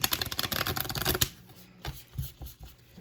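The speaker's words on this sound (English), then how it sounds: "This deck is so awkward to shuffle because it's in the shape of a heart." A heart-shaped deck of cards is riffled and shuffled briskly for about a second, followed by quieter handling, tapping and a few soft card sounds.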